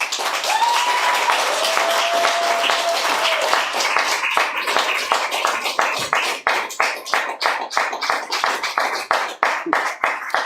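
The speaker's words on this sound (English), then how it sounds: "Round of applause for our authors tonight." An audience at an author reading applauds, first as a dense wash of clapping with a brief voice, then thinning into scattered, rhythmic individual claps.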